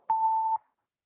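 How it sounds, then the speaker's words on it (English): A single steady electronic beep, a clear mid-pitched tone lasting about half a second, then silence. "This is warning bell."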